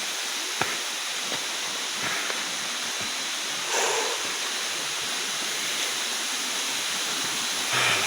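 The Gunung Betung waterfall roars in a steady, broadband rush of falling water, loud and close, with a few faint knocks and rustles nearby and no talking.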